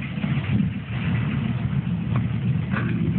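A 1989 Dodge RAM D100 truck idles at the exhaust, giving a steady, low, fairly quiet rumble that stays even throughout, with no one talking.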